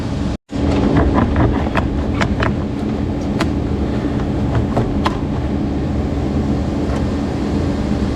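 A space heater runs steadily in a cold garage while work is done on a 1978 International Harvester Scout, giving a continuous close broadband roar with a brief dropout near the start and faint clinks over it.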